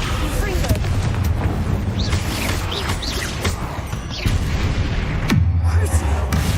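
Fiery Confringo spell blasts in Hogwarts Legacy, a dense rumbling crackle with sharp bursts near the middle and a heavier boom toward the end, loud and close amid game effects.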